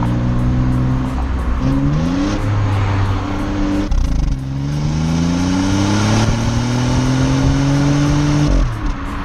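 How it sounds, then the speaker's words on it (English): A turbocharged Mini Cooper hatchback's small engine revs up through several gears, its tone climbing and dropping at each shift, loud and close with tire and road noise and no talking. "the turbo, which sounds very, very good for a small little car"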